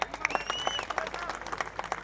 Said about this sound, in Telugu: గట్టి క్లాప్స్.